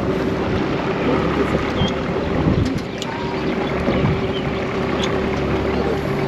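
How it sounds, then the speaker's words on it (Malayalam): A boat motoring out at sea on a deep-sea fishing trip off Darwin, Australia, giving a steady engine drone mixed with wind buffeting and water rush, continuous and close throughout. "ബോട്ട് ഇങ്ങനെ അടുപ്പിച്ച് ഞങ്ങളും കയറി, ഞങ്ങളെല്ലാവരും കയറി ബോട്ടിൽ"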